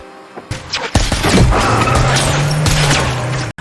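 A sudden burst of loud gunfire in a film scene, with sharp booms and cracks, followed by a sustained roaring rumble, dramatic and close.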